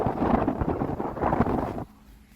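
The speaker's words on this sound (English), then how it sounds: "I'm hoping the wind's not too bad on that" Outdoor wind buffeting a microphone near a knife showroom and factory property, loud rumbling gusts that drop off abruptly near the end, with no voices.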